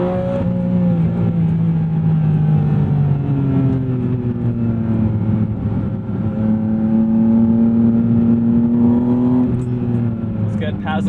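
Porsche sports car engine, a 718 Spyder RS or 911 GT3 RS, pulls hard through a series of quick upshifts, its loud, steady rising whine dropping at each gear change, heard from inside the cabin with no talk.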